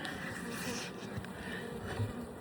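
Honey bees hum continuously during a hive inspection, a dense, steady buzzing swarm close by and moderately loud, without any speech.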